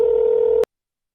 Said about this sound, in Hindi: फोनवा लगावत है जाना हाँ लगाओ